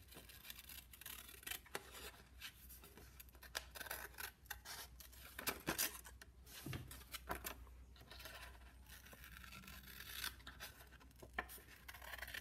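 Scissors snip through paper while a turkey shape is cut out for a Thankful Turkey craft, giving repeated close, crisp cuts with short pauses between them, fairly quiet, and no one speaking.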